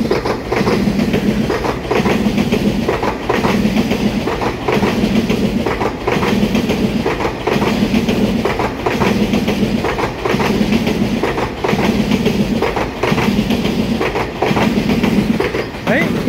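Taiwan Railway EMU3000 twelve-car electric multiple unit passing close by, with a steady rumble and regular clickety-clack of wheels over rail joints repeating about every second and a half throughout.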